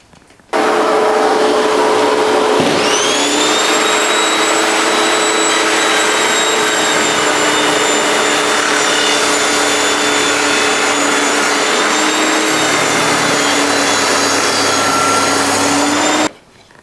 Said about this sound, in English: Circular saw table with vacuum.